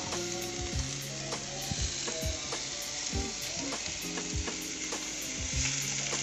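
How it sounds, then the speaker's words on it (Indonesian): Garlic prawns with ground chili sautéing in a hot pan for butter garlic prawn aglio e olio, a steady loud sizzle with repeated scraping and stirring knocks throughout, no voices. "Kemudian ditumis lagi."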